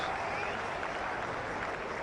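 A cricket crowd at a Sri Lanka versus Australia match applauds in a steady, distant wash of clapping and cheering, fairly faint and even throughout.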